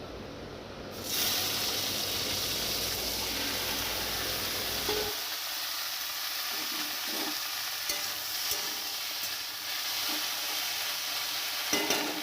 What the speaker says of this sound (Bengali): এবার কড়াইতে তেল গরম করে ঢেঁড়সগুলো দিয়ে দেবো